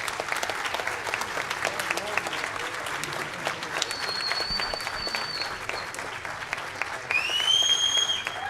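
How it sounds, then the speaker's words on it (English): An audience at a high school spring choir concert applauds its graduating seniors with sustained, dense clapping that swells louder near the end, while faint whistles cut through. "give our graduating seniors a round of applause"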